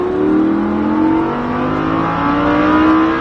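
A Lamborghini Huracan on the Magny-Cours Club circuit pulls hard at full throttle, its engine note rising steadily and loudly in one continuous climb, close and unbroken.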